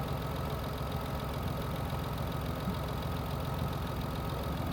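A Mitsubishi Endeavor engine idles steadily after a power steering pump install, a continuous close mechanical hum and rumble with no talk.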